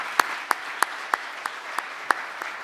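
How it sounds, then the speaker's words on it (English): Applause at the close of a morning session at a European high-performance computing conference comes through as sparse, evenly spaced sharp claps, roughly three per second, standing out against a soft background hush. "let me ask you to applaud Florian."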